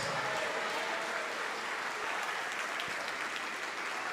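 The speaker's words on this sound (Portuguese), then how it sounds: "Vamos nos alegrar, igreja. Vamos aplaudir mais." A church congregation applauds in a steady, dense wash of clapping that runs unbroken the whole time. It sounds fairly soft and slightly distant, like a large room full of people.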